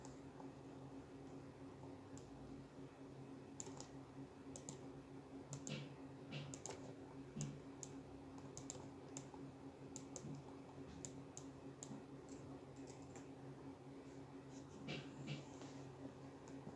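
Faint, steady typing on a computer keyboard, with scattered soft key clicks and taps over low background hum.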